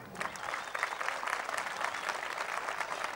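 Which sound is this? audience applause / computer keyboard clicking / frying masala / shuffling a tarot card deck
audience applause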